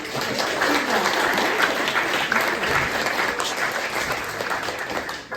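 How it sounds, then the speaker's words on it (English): Sustained, loud applause from a concert audience at a Burns Night concert, cheering the pipers after their set; dense, even clapping fills the whole stretch without a break and fades slightly at the very end. "Let's have another round of applause for them."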